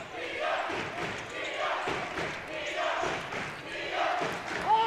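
Crowd noise at a high school boys basketball game, Roselle Catholic against Sewickley Academy, a loud swelling roar of cheering with shouts, sneaker squeaks and ball thumps under an announcer's play-by-play.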